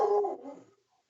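A dog, agitated and going nuts indoors, gives a short, loud bark that fades out within about a second, with no talking over it.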